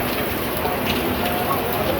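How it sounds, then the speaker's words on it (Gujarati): Heavy rain pours down in Patan, a dense, steady hiss of drops drumming on surfaces from start to finish. "જોરદાર વરસાદ પડે છે મિત્રો"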